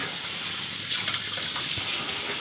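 Tap water runs steadily into a kitchen sink as raw chicken pieces are washed, a close, continuous gushing hiss with no talking.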